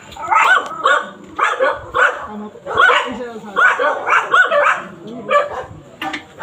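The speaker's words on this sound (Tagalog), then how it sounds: "Tumatawag na aso." A dog barks repeatedly in quick bursts of yips and bow-wows, loud and close, with some whimpering tones mixed in during an outdoor stop on a delivery run.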